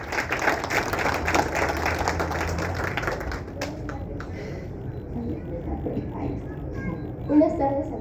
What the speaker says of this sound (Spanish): Fuerte las palmas para Samira.